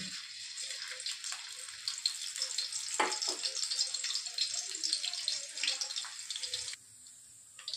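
Garlic dropped into hot oil in a kitchen pan, giving a soft continuous sizzle and crackle with a few brief clatters, fairly quiet and close, ending in a quieter hiss.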